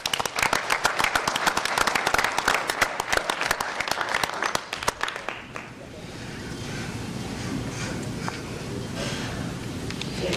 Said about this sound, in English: just wanted to give them a round of applause